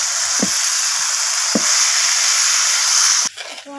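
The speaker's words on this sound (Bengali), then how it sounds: "তো এরপর আমি মাটনটাকে একদম কষিয়ে নিচ্ছি সব কিছুর সাথে এইভাবে।" Mutton is fried with spices in a pan, giving a loud, continuous sizzle up close, broken by a few soft stirring knocks before the hiss suddenly drops near the end.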